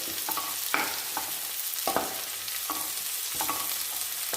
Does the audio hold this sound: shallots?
yes